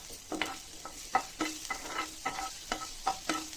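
Finely chopped garlic fries in a little hot oil in a pan for manchurian sauce, with a steady close sizzle punctuated by regular scraping stirs about every half second.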